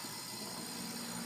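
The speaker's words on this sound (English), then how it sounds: "you can hear the vacuum pump starting to draw." A vacuum pump hooked to the low side of a truck's open automotive AC system, drawing a vacuum with a steady, continuous motor hum and vibration, fairly quiet and unbroken throughout.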